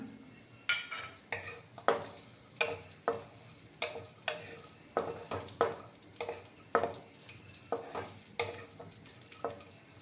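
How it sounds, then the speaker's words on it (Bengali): Cashew nuts and raisins frying in ghee in a pan for mango semolina halwa, a soft sizzle under repeated scraping and tapping strokes of a spoon against the pan, evenly spaced and close. "একটু সময় আমি কাজু বাদামগুলোকে একটু লাল করে ভেজে নেব। তারপর দেখো কিছুটা কিশমিশ আমি দিয়ে দিলাম।"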